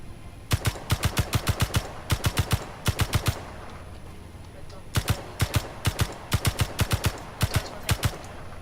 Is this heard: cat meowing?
no